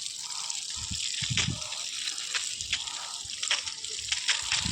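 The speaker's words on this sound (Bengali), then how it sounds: "এই যে জলটা দিচ্ছি" Water is poured by hand onto a garden plant, a steady soft splash and trickle running throughout, close by and fairly quiet, with faint low knocks underneath and no voices.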